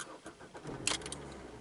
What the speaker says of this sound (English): Like checking to see if the car will start.